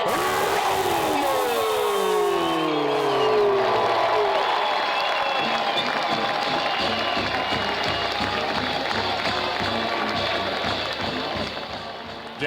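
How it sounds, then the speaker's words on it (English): A crowd at a campus football event applauding and cheering for Tony Romo, sustained dense clapping and whooping that swells early and then gradually fades. "Let's have a big round of applause, Tony Romo!"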